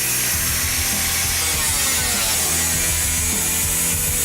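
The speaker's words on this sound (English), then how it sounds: "You get to use the power tools and make some sparks." A loud power tool grinds steadily through metal, cutting a Jeep TJ fender area, with a harsh, continuous high-pitched whine and rough rasping underneath, close by and uninterrupted.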